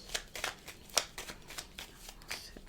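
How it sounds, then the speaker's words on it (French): A deck of playing cards is shuffled by hand at a daily tarot reading, giving a run of rapid riffles and soft slaps, close and fairly loud, with no talking. "je vais essayer de bien vous les battre"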